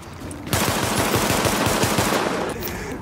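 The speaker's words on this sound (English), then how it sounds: "That was a shotgun." Rapid automatic gunfire in the video game The Division, a loud, dense burst lasting about two seconds, preceded and followed by a quieter background.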